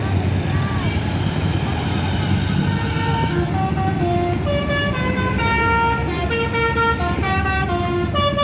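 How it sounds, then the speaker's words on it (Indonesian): CKJ bus in Aceh sounding a telolet basuri musical horn at night, a run of melodic tooting notes over loud road and engine rumble, with voices present. "salah satu bus CKJ"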